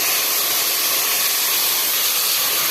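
Rice hits salted, fried onions in a hot pan, setting off a loud, steady sizzling hiss that holds evenly throughout with no talking.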